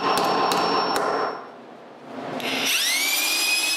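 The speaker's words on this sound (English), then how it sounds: "When it's moving a bit, I use the drill to remove it." A high-pitched power drill removing a rod whines steadily, dips briefly, then revs back up with a rising tone, preceded by a few sharp clicks.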